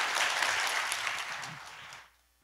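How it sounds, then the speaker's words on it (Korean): Audience applause at a nonprofit conference session, a dense wash of many hands clapping that holds steady before fading out near the end. "큰 박수로 맞이해 주시면 고맙겠습니다."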